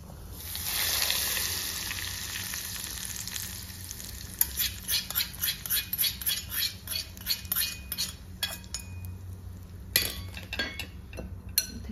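A spoon stirs a raw mango pickle mixture that has had hot oil poured over it, giving a quiet oily sizzle under a run of rhythmic scraping strokes against the bowl, close by and with no speech.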